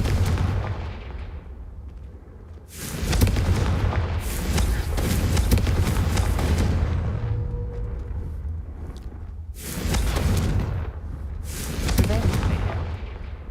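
Confringo fire spell blasts in the Hogwarts Legacy video game: loud booming explosive bursts in several separate surges, each with a rumbling tail, over game music and scattered voices.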